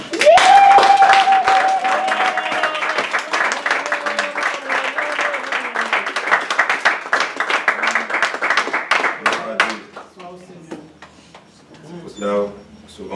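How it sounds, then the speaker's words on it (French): A church congregation applauding together during a service, sustained dense clapping for around ten seconds with voices calling out over it, then fading to scattered claps and murmuring. "Acclamons."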